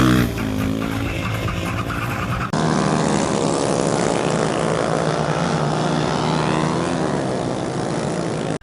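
Motorcycles racing at the 14th round of a national motorcycling championship in Tafiré: sustained buzzing engine drone with a sharp cut midway, then a steady dense roar of several machines.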